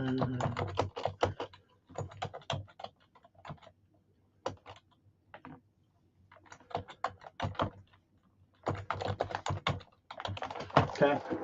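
Fingers type a chat message on a computer keyboard in irregular bursts of quick soft clicks separated by pauses, fairly quiet, with a faint background hum.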